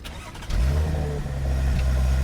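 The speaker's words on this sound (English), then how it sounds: "Guess I need to start the car so it doesn't die." An Audi A6 with a standard V6 engine starts up, a brief crank then a smooth, steady low engine hum settling in, heard close from inside the car.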